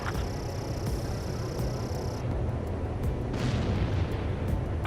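A missile launch and explosion in the Ace Combat 7 video game produce a dense, continuous roaring rumble with booming bursts, loud and close throughout.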